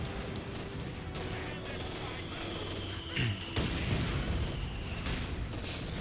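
Massed small-arms and machine-gun fire across a Company of Heroes 2 3v3 battlefield, a dense crackle with a few sharper bursts and blasts after three seconds, with a voice talking over it at times.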